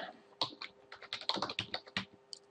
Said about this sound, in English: keep typing sudo?